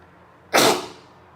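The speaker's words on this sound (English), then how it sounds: "I'm going to sneeze again." A single sharp, breathy sneeze bursts out close to the microphone, then fades into quiet.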